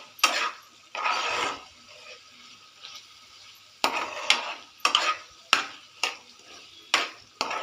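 Cauliflower bhaji being stirred in a pan with a spoon, giving a series of brief scraping strokes, a couple of longer ones early and then quicker rhythmic scrapes, close and fairly quiet with a faint sizzle underneath.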